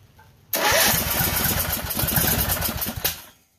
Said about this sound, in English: Oh, dude, that's a hell of a backfire. That thing's got a valve out of adjustment, probably.